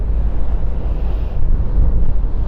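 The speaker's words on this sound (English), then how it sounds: "Sorry if you can hear the wind" Strong wind buffets the microphone on a boat trip out toward Red Sand Fort, a loud, constant low rumble with gusting swells and no voices over it.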